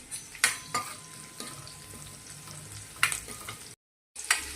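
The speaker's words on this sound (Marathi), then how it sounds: "त्यातच कढीपत्ता टाकते मी तो देखील तेलामध्ये चांगला परतून घ्यायचा आहे" Curry leaves sautéing in hot oil with garlic and chilli, a steady close sizzle broken by sharp crackles and spatters and the scrape of a spoon stirring the pan, cutting off briefly near the end.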